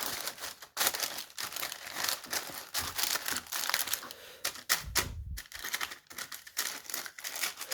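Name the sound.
handling and placing baking parchment paper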